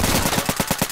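Automatic rifle fire in the tactical shooter game Insurgency: a rapid burst of about eight evenly spaced loud shots within one second, close and alone.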